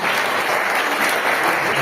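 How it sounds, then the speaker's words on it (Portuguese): Church congregation applauding, a dense continuous wash of many hands clapping at close range, steady throughout with no pauses. "Dê uma salva de palmas ao Senhor."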